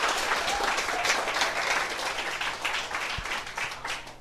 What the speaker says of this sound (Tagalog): Alam nyo, dapat nilalakasan yung palakpak nyo.